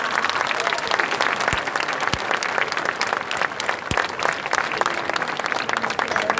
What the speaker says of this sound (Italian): Salutiamo gli amici a casa con un applauso,